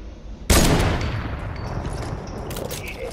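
Battle royale gunfire in a final circle, opening with one loud, close blast followed by a sustained, dense rumble of shots and echoes, with fainter sharp cracks near the end.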